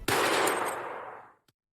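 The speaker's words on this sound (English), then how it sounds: "gunshots." A burst of gunfire erupts loudly and close, a dense crackling volley that decays over about a second, followed by one faint final shot.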